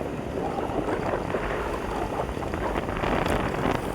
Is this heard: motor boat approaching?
yes